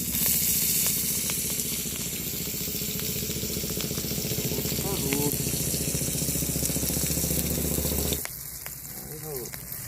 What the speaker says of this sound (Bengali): এই যে আমাদের মাছ ভাজছে মলাইদা